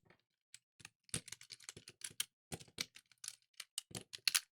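Rebuilt mechanical keyboard with a plate and blank keycaps typed on in quick, irregular runs of crisp, close clicks and clacks, with no other sound around them.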